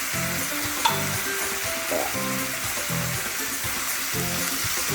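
A hamburger pie mixture of browned meat sizzles and fries in a pan while being stirred. A steady close sizzle runs throughout, with scraping stirring strokes at an irregular rhythm over it. No one speaks.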